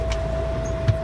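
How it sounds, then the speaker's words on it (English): A truck engine runs with a steady low rumble and a constant mid-pitched whine during a cab air-brake inspection, with one brief thump near the end. "I'm going to start the engine with the safe start"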